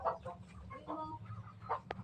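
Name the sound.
chicken clucking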